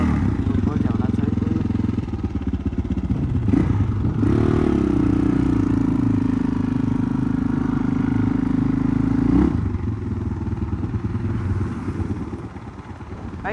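A motorcycle is being ridden, its engine a loud continuous drone that holds a steady tone for several seconds before easing off. Wind and road rumble run under it, with no clear talk.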